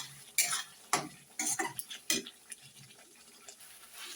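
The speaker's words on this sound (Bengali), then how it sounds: "মশলাটা একটু ভালো করে কষিয়ে নেব যতক্ষণ না তেলটা ছাড়ে" A spice masala with Kashmiri chilli powder fries in oil in a pan for an egg curry, with several distinct scraping stirs of a spatula over a faint low sizzle.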